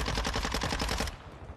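Automatic gunfire in the video game Warzone: a fast, loud burst of roughly a dozen shots lasting about a second, then fading out.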